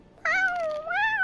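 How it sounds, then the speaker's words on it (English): A cat girl character in Genshin Impact gives a single short, clear meow, bright and close, rising and bending in pitch before ending, heard alone against quiet. "Cat girl meowing."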